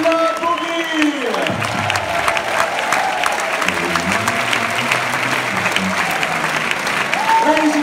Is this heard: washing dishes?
no